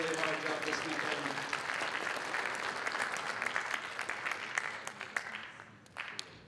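A large audience applauds the judges at a closing ceremony, a dense steady wash of clapping with some cheering voices mixed in, fading slightly toward the end.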